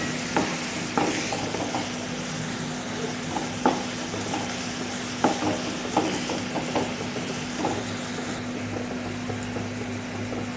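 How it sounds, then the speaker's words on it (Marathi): Chopped onion with green chili fries in a pan with a steady, close sizzle, broken by a dozen or so sharp scrapes and clacks of a spoon stirring against the metal, with no voices. "कांदा फ्राय करून घ्यायचा आहे चांगला."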